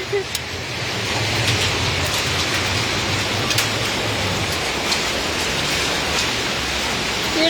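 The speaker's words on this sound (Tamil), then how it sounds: "சாலை முழுக்க ஐஸ் மழையா இருக்கு" Dense, steady ice rain and hail pelting a road surface in Arlington, a continuous loud hiss of impacts filling the whole stretch, with a few faint sharper ticks mixed in.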